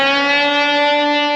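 A single sustained electric guitar note from a solo, bent a step and a half from B up to D, ringing clear and loud for a moment without talking.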